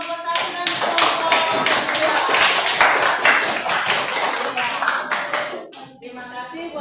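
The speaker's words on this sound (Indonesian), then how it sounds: "kita berikan tepuk tangan dulu untuk kelompok 1 dan kelompok" A classroom of sixth-grade students applauds a student group, dense continuous clapping from many hands sustained for several seconds before tapering off near the end, with some voices mixed in.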